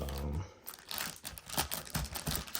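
Plastic wrap on a sneaker box being handled during an unboxing, close, irregular crinkling and rustling bursts that keep going throughout, with no talking.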